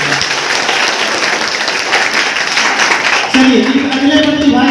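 An audience at a block-level school talent festival in Bihar claps loudly and steadily for several seconds. A voice then comes in over the thinning applause.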